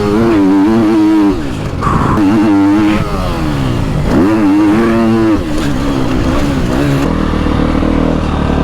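Motocross bike at a track in Trofarello, Italy, roaring loud and close, its engine note climbing and falling through repeated revs as it takes a jump, with no talk.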